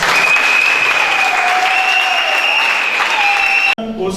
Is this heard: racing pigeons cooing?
no